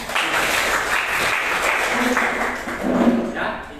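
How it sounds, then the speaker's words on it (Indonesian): Students in a classroom applaud together, a dense burst of clapping lasting several seconds with faint voices mixed in. "Berikan aplaus lagi."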